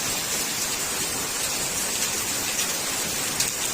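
Floodwater pouring past in a steady, dense rush that fills the whole moment with even, hissing noise, without pause or change.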